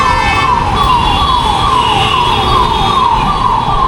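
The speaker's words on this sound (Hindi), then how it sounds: "एम्बुलेंस को रास्ता नहीं दे रहे।" An ambulance siren wails loudly and steadily in city traffic in Hyderabad, repeating a rising-and-falling cycle close by with a rumble of traffic underneath.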